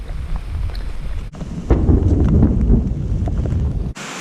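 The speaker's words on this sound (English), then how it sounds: "even though it's raining pretty hard, the wind has set down." Heavy rain falls on a chicken pasture as a loud, dense roar with a low rumbling wash, cutting out briefly partway through and again near the end.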